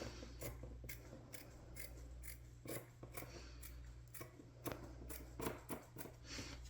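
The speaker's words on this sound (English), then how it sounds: "I'm going to use a pair of scissors." Scissors snip repeatedly in a quick, uneven rhythm, a dozen or more crisp close-up cuts through sail cloth over a low background hum.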